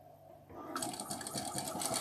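A home sewing machine stitches starched quilting fabric, its motor starting quietly and then running in a steady, loud whir with rapid rhythmic needle clatter for the rest of the moment.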